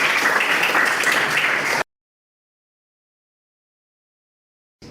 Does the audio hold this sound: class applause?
yes